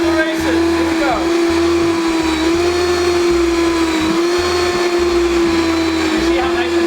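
A blender runs loud and steady throughout, whirring with a strong constant motor tone while blending a thick mixture in a home kitchen, with faint voices underneath.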